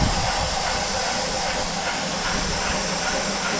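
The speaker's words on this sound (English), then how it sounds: "making sure all 4 drain cocks are open at the same time, evacuating steam and water from the cylinders" Drain cocks on a 7¼ inch gauge Hunslet steam locomotive blast out steam and water in a loud, continuous broadband hiss that holds steady and close for the whole stretch.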